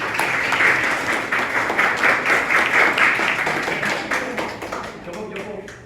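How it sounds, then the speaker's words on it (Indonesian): Classroom audience applauding at the end of a student teaching presentation, steady dense clapping with some individual taps standing out, fairly loud and sustained, easing slightly toward the end, with faint voices mixed in. "Tepuk tangan dulu buat semuanya."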